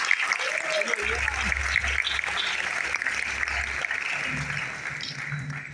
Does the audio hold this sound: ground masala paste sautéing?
no